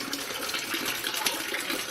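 Polluted river water gushes steadily into a well along the Citarum river, a continuous close splashing rush of flowing water with no other sound.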